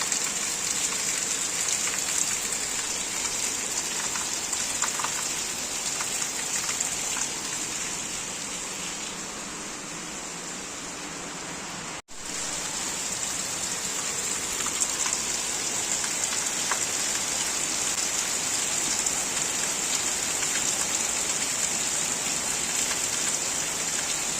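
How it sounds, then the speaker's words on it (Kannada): Heavy rain pours down in a steady, dense hiss that continues unbroken for the whole stretch, dipping briefly near the middle before resuming at full strength, with no voices. "ಮಳೆ ಜಾಸ್ತಿ ಇದೆ"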